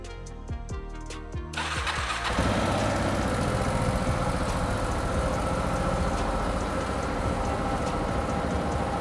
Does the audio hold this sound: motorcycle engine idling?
yes